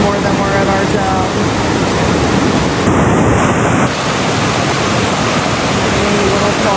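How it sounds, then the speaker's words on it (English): A small waterfall on Little Falls Trail in Promised Land State Park in the Poconos pours with a loud, steady rush of broadband water noise, partly buffeted by wind against the microphone. "every little waterfall counts. Even though it's a little baby, it's still a waterfall. And we still love to see it and hear the sound."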